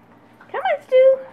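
A five-week-old Matrix/Beamer puppy lets out close, short whimpers and a higher sustained whine lasting about a second, heard in a quiet room.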